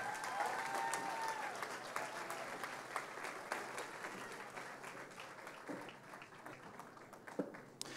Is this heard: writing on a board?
no